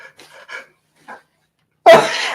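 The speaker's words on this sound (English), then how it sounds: "I'm going to sneeze." A single sharp, loud sneeze bursts in near the end, followed by a breathy trailing exhale, after a few soft murmured sounds and quiet breaths.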